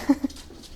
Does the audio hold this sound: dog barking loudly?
yes